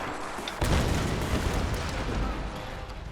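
A loud explosion in Tomb Raider bursts in about half a second, followed by a sustained rumbling roar that stays heavy and dense.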